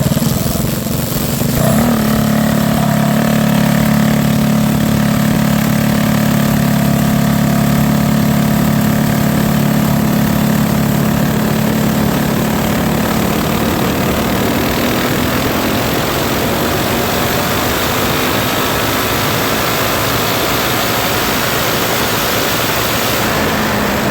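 A Go Power Sports Rascal GT drag mini bike engine idles loud and steady, holding one even note throughout, then eases slightly lower in pitch toward the end, running alone with no talk.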